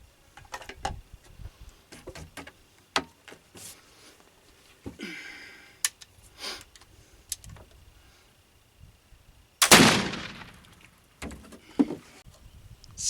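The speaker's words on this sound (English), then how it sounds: "I'm just gonna shoot into the bank and get 2 recorded numbers." A gun firing homemade black powder into a bank gives one loud, sharp report with a long decaying tail, standing out among scattered small knocks and handling noises.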